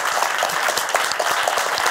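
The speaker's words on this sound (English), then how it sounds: "And another big round of applause for Kamala." A gallery audience claps for the artist Kamala in a brief burst of steady, dense applause, with individual hand claps audible in the mix.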